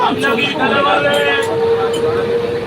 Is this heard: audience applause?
no